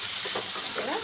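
Chopped tomatoes fry in a hot pan for egg curry, giving a steady broad sizzle throughout with a few soft stirring scrapes near the end.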